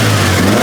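A Mitsubishi Evo engine with a pod filter fitted revs hard and close up in a single loud, steady burst with a deep, throaty drone.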